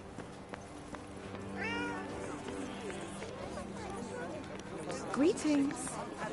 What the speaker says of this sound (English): I have a strange feeling that cat wants us to follow it.